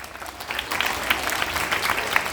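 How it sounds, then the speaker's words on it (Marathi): A room full of people claps together in a steady, lively burst of applause, close and fairly loud, with no talk over it. "तुम्हा सर्वांसाठी जोरदार टाळ्या वाजवा"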